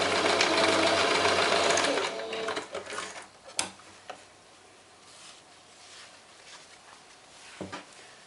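A sewing machine runs at a fast steady stitch for about two seconds while joining fabric strips, then slows into a few short bursts and clicks before falling mostly quiet.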